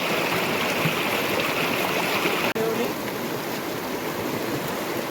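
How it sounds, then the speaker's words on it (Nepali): A swollen, rain-fed river in Nepal, risen high enough to threaten fishing nets, rushes in a loud, steady broadband roar close by, with a voice talking over it. "खोला बढेर चाहिँ हिजो चाहिँ पानी त्यहाँ अलिअलि थियो अहिले चाहिँ अब बढेर यहाँसम्म आएछ"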